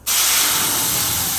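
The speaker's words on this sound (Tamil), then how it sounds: "பேன் சுட்டெடுத்து கடுகு சேர்க்குறேன்." Mustard seeds hit a hot pan and burst into a loud, dense sizzle that starts abruptly and hisses steadily at close range, with no talk over it.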